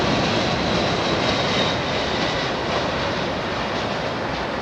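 Delta Airbus A330-200 jet powered by CF6 engines, a loud steady broadband engine roar with a faint whine, sustained throughout without talk.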